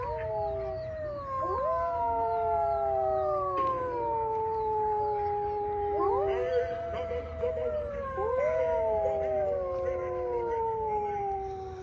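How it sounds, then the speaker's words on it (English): Halloween yard-display animatronic wolves let out several overlapping long, wavering howls that rise and fall in a chorus, fairly loud against a low outdoor hum, with short gaps between rounds. "got our wolves over here howling."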